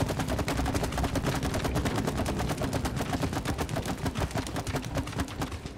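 Rapid automatic gunfire in the co-op game It Takes Two, a fast, even stream of shots fired at tree sap, loud and continuous throughout with no voices over it.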